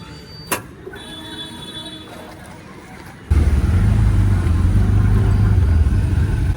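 An auto rickshaw engine cuts in suddenly and close, then settles into a loud, steady, low rumbling drone after a quiet stretch with a brief knock.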